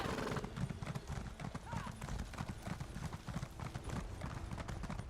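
A horse in Elder Scrolls Online clip-clops steadily along at a trot, the hoofbeats running under game ambience and a voice talking over the top.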